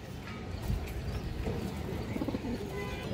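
A male Army pigeon, a white bird, gives low throaty coos near the end amid handling noise and a soft background rumble.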